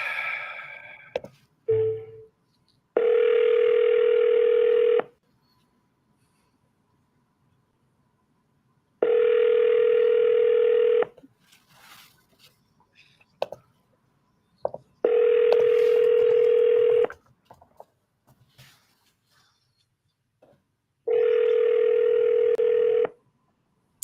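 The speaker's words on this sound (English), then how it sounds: "Hey, Jake, if you could get someone to answer the phone, that'd be great" A telephone line rings back while a call waits for an answer: four steady two-second tones, evenly spaced by long silences, clear and close, with brief clicks and small noises between them.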